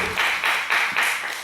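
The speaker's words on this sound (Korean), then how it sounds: "영성을 향해 박수를 칩니다" A Korean church congregation claps together during a Sunday service, four loud, rhythmic bursts of unison clapping, close and evenly spaced, with no talk.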